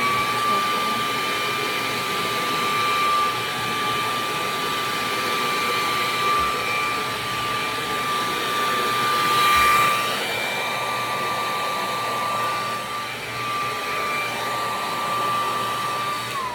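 A KISS Red Tourmaline ceramic hair dryer blows in a loud, steady whoosh with a high whine, its airflow swelling briefly midway and shifting slightly near the end.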